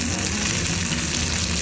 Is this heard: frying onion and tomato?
yes